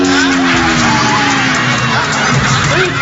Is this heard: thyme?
no